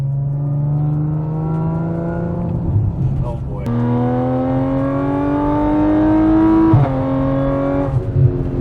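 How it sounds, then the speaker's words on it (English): A Stage 2 Audi SQ5 with exhaust modifications, supercharger pulley and intercooler upgrades accelerates hard, its engine note climbing steadily through the gears with brief dips at the shifts, loud and close, with a short exclamation from a passenger. "we took that opportunity to install some exhaust mods. So you might notice it's a little bit louder."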